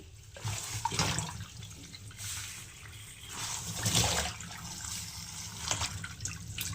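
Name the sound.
washing pumpkin leaves in water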